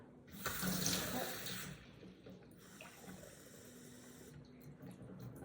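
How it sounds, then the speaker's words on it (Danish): A tap runs water into a glass, starting as a loud rushing stream that softens into steadier, quieter filling, close by and without talk. "Hælde vand i."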